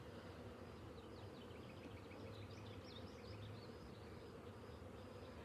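Honey bees from a recently hived swarm hum in a steady, dense buzz that holds unbroken and fairly quiet throughout, with no voices.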